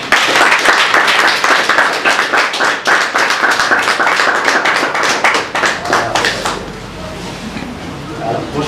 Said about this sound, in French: Donc je vous demande d'applaudir Monsieur Koumato Andreas.